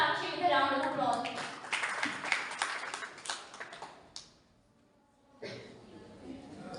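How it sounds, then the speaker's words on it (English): An audience at an inter-school English elocution event applauds as a speaker is welcomed, a dense rush of clapping that fades out near the end before a voice resumes. "Please welcome Sonakshi with a round of applause."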